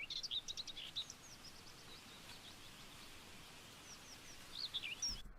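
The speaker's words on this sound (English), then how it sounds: "You could add the chirping of birds." Birds chirping in short bright bursts, sparse and somewhat distant, over a soft steady background hiss.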